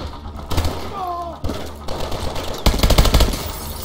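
Gunfire in Call of Duty Advanced Warfare. Loud bursts of rapid automatic shots come in separate volleys, the last one the longest and heaviest, with a brief voice in between.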